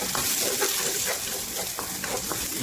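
Long green chili and red onion stirred into hot garlic in a pan while sautéing mixed vegetables, a steady loud sizzle with soft rhythmic scraping from the stirring.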